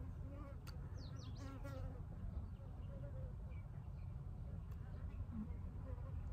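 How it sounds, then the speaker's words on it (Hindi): A fly buzzes near the microphone during a quiet makeup ASMR session, a faint wavering whine that drifts in and out over a low hum of background noise. "एक मक्खी उड़ती हुई आ रही है."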